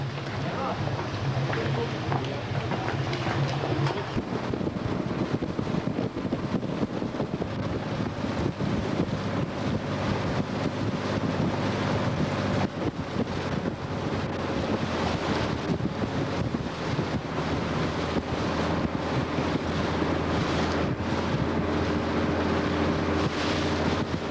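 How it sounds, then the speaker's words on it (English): Water taxi ride in Venice with constant wind buffeting the microphone and the boat's engine and waves churning underneath, loud and continuous throughout, with faint speech at times. "Right now, turning for our water taxi here in Venice."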